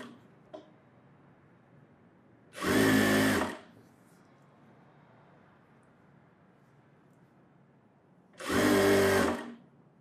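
Two short, loud bursts of a sewing machine stitching an umbrella frock, separated by several seconds of near silence with faint background hum.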